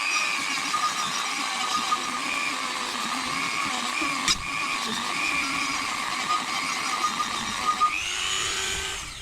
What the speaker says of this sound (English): we're going to use a Dremel with a sanding add-on for this one, for the housing